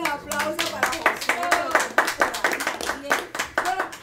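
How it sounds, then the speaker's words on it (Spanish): A small group claps in the studio of a live radio show broadcast from an automotive precision shop, sharp, close claps in an uneven rhythm with a voice talking underneath. "Un aplauso para Josué."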